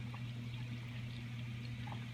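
Water runs steadily through a newly installed aquarium chiller on a BioCube 32 tank, a constant low flowing hum and trickle close by with no talking.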